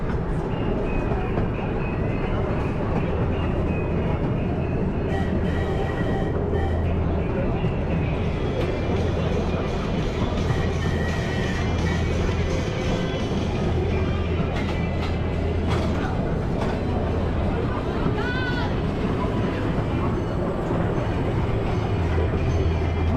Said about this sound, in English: Our little nature train is getting off to a great start.